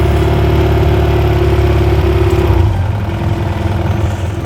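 A motorcycle engine running and revving close by, a steady loud drone that shifts in pitch partway through, with no voices over it.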